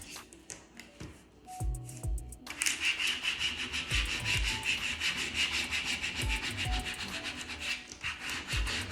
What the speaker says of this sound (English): And do some scrubbing.